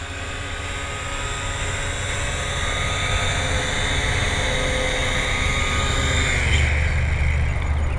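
A Syma X8C quadcopter drone flying in to land after a crash the day before, giving a steady loud whirring drone of motors and propellers that holds an even level throughout, with no talk.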